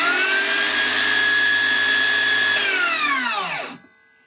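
A Makita 40V 270mm track-compatible circular saw on a half-depleted 2Ah battery runs at a loud, steady high whine, then the blade winds down and stops, leaving near silence.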